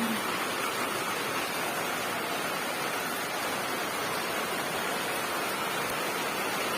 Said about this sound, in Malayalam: കണ്ടോ മഴ, നല്ല സൂപ്പർ മഴ.